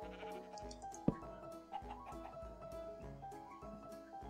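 Sheep bleat in a blocky survival video game, a clear close bleat standing out over steady game music and ambient sound, with a second fainter call shortly after.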